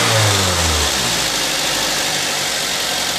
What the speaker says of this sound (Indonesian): Nah, ini mesin hidup.